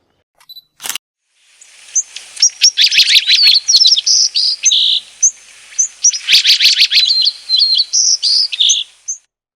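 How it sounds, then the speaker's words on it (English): Yellow-throated vireo calling near a pond, bright chirps repeated over several seconds, mixed with rapid bursts of camera shutter clicks from a Nikon D500 close at hand. "So here a yellow-throated vireo."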